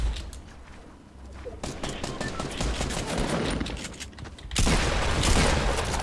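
A minigun in the video game Fortnite fires long continuous rattling bursts, growing louder and denser toward the end, with a player speaking over it.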